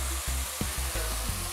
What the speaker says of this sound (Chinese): 滋滋的作响哦。黑胡椒猪排上菜